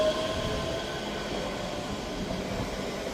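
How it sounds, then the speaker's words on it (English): A ScotRail train departs Edinburgh Haymarket, heard as a steady, close rumble and rail roar that holds level throughout with no voices. "departing out now, we have the 1025 Scotrail service from Edinburgh Waverley to Glasgow Central"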